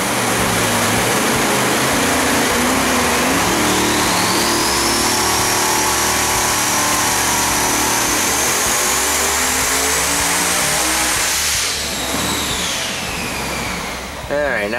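A twin-turbo big-block Chevrolet engine making over 3,600 hp roars at full load on a dyno pull, a loud sustained rising howl with turbo whine that drops off sharply near the end as it shuts down.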